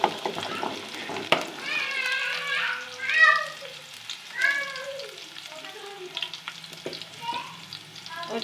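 Finely chopped garlic with green chilies frying in oil toward golden, heard as a close sizzle with stirring noises and some higher tonal squeaks over it.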